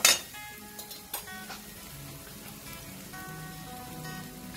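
Red chilli powder, Kashmiri chilli powder and homemade black masala sautéing in a pan for a traditional mixed vegetable dish, a soft crackling sizzle with a few clinks at the start, while a voice talks over it.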